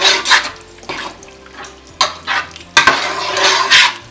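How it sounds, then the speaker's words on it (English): A spoon stirs Nigerian egusi soup with meat and stock in a pot, scraping and sloshing in uneven bursts, several louder strokes clattering against the metal near the end. "Then give it a good stir"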